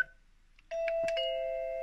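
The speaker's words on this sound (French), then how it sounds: "la personne elle arrive, elle appuie sur le bouton, voilà, et ça fait sonner la sonnette" A wireless 433 MHz Friedland doorbell sounds a clear electronic chime, a short tone then a sustained ringing note, close and alone.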